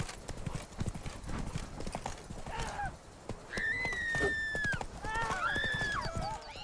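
Steady clip-clop of horse hooves while riding in The Witcher 3, a continuous trotting rhythm with a couple of whinnies breaking in partway through; a voice speaks faintly underneath.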